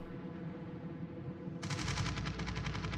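Anti-aircraft guns on a warship in World of Warships open fire on incoming torpedo bombers. A steady engine rumble gives way to a sudden rapid, rhythmic pounding of flak that continues to the end.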